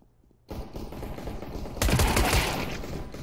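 Gunfire rattles in CS:GO. Rapid automatic bursts cut in sharply after a brief quiet start, then turn louder and more continuous near the end, with no voices over them.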